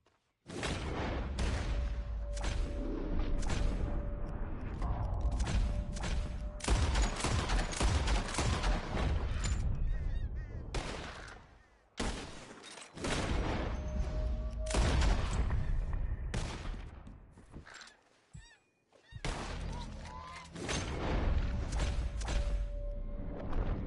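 Rapid gunfire while shooting birds out of the sky in Red Dead Redemption 2, a dense run of loud overlapping shots in clusters with a couple of brief pauses, continuing for over twenty seconds.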